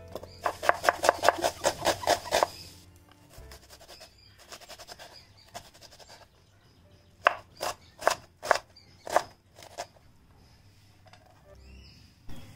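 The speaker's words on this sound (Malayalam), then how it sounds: "ബിരിയാണിക്കുള്ള സാലഡിന് വേണ്ടിയിട്ട് 2 സവാള എടുത്തിട്ടുണ്ട്. അതൊന്ന് ചെറുതായിട്ടൊന്ന് അരിഞ്ഞെടുക്കാം." A kitchen knife chops two onions finely for biryani salad on a board. It makes quick, crisp taps in a rapid run, then a pause, then slower separate strikes, all close by and fairly quiet.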